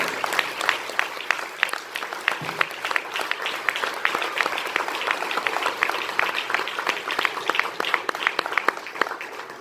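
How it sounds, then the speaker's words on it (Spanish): A church congregation claps together during a sermon, a lively stream of many distinct hand claps at close range, steady and unbroken for the whole stretch. "Denle un aplauso al Señor."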